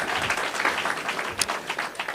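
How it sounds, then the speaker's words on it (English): Audience applause at a town hall meeting, a short burst of many hands clapping fairly close and even, with no speech over it. "Give them a round of applause"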